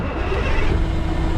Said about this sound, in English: fire this up so we can move her out the way